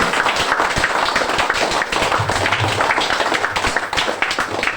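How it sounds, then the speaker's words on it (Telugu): Dense, continuous clapping from an audience at a speech, loud and steady throughout, with a faint voice briefly audible underneath. "గట్టిగా కొట్టండి చప్పట్లు"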